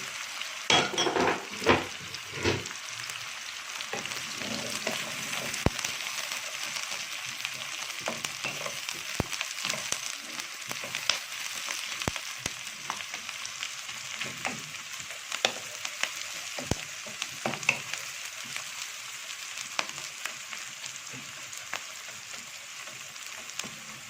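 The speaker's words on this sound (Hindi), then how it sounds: "लाइट ब्राउन होने तक प्याज को हम पकाएंगे" Finely chopped onions fry toward light brown for chicken haleem, a continuous close sizzle broken by occasional stirring scrapes and light clinks of a utensil against the pot.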